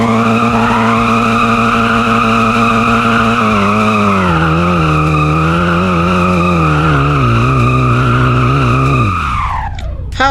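A car drifts in the Roblox video game with traction off, its tires squealing in a loud, sustained screech over a steady engine drone that wavers in pitch, dropping away and cutting off in the last second.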